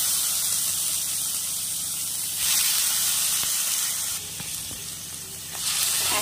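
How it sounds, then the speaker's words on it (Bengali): Tomato paste sizzles in hot mustard oil with whole mustard seeds, a close, continuous hissing fry that swells and eases slightly as it cooks, with no voices. "তেলটা গরম হয়ে গেলে এখন আমি এর মধ্যে একটু গোটা সর্ষে ফোড়ন দিয়ে দেব। দেয়া হয়ে গেলে তার মধ্যে দিয়ে দেব টমেটো বাটাটা।"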